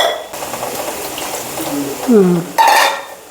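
Water pouring and sloshing into a pot of roadside-style chutney, with a utensil stirring and clinking against the metal, close by.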